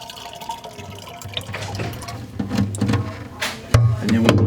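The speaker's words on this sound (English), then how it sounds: "So we're pouring it into the fill mouth here." Ice cream mix for honey pistachio ice cream pouring into the large fill mouth of an ice cream machine, a steady liquid splash and trickle with a few clunks, fairly close.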